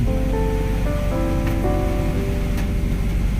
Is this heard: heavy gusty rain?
yes